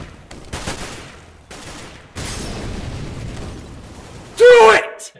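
Gunfire in the video game CS:GO, with a few bursts of shots over a busy in-game mix and a sharp, loud crack near the end.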